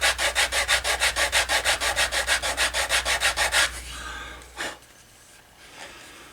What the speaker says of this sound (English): when I'm sanding the corner, I make sure that both corners are identical